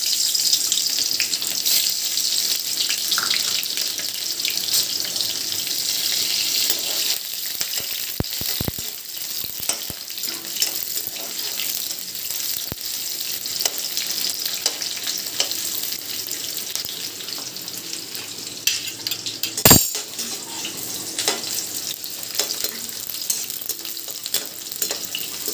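Onions fry in hot oil in a pan while a local chicken dish is cooked. A continuous close sizzle carries light stirring scrapes and clinks, with one sharp knock near the end, and no voices.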